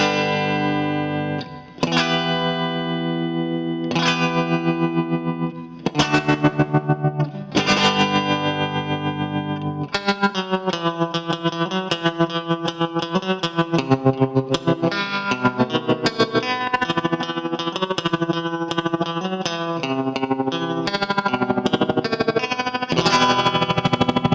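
Surf guitar run through a Chase Bliss Clean compressor pedal plays loud, punchy picked notes, first sparse stabs with ringing sustain, then a fast steady tremolo-picked line with reverb, continuing without talk.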